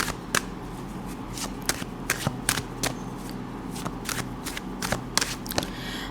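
Tarot cards are shuffled in a rapid series of crisp, papery riffles and flicks, close and moderately quiet, with a low hum underneath.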